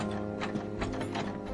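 An embroidery machine sews a tack-down stitch through fabric laid right side up over a quilt block, giving a steady, busy mechanical whir with rapid ticking needle strokes throughout.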